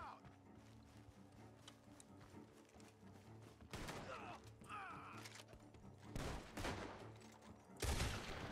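Gunfire in the video game Red Dead Redemption 2, a few loud bursts of shots cutting through a mix of game ambience, hoofbeats and background sound, with voices talking in between.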